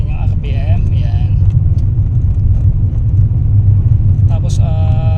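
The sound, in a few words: Toyota Yaris 2015 engine revved up to 2000 RPM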